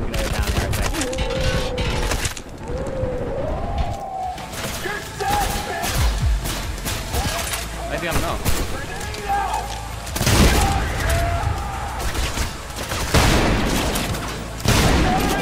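Gunfire in the video game Trepang2, scattered shots and heavy booming bursts mixed with combat effects, while someone talks and shouts over the action.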